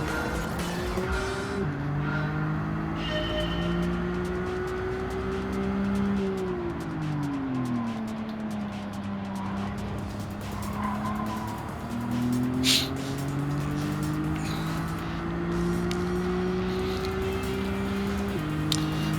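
Race car engines in Gran Turismo 7, a high droning whine rising and dipping through gear shifts, with tire noise and a brief squeal midway, steady and close.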